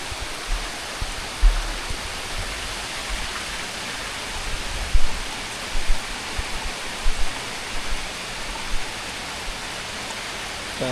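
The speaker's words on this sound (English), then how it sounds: "Just about every day it's been pouring rain in the afternoons." Heavy afternoon rain pours steadily during a chicken coop build, a dense and even hiss with a few louder drips and knocks scattered through it.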